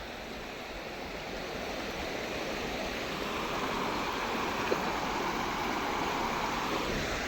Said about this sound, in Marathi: कातळावरनं पाणी खाली येतं दोन दोन्ही साईडने